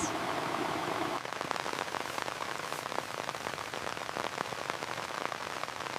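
Steady, dense rain drumming on a taut tent fabric close by during a rainstorm, a constant hiss of many droplets pattering with no voices.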